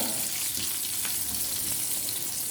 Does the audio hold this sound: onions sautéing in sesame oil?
yes